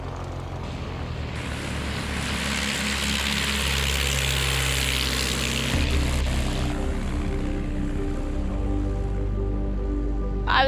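A small propeller plane taxis past a yellow Cessna support plane and a crowd of well-wishers before a tribute flight for Lake Pedder, its engine droning loud and steady with a shift in pitch partway through.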